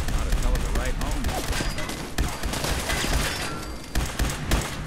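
Rapid gunfire from a shootout in the video game Fallout 4 rattles on loud and close, in dense overlapping bursts with sharp cracks, over continuous game noise.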